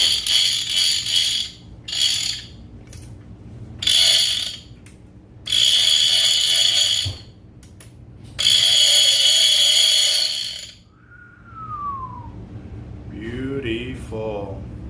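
An Avet fishing reel's clicker ratchet buzzes loudly up close in several rapid bursts of a second or two each during a function check, followed by brief vocal sounds toward the end.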